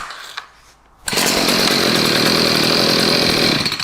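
A STIHL HS 45 hedge trimmer's small two-stroke engine starts after a quiet moment and then runs at a steady, loud, buzzing drone, close by and with no talk over it.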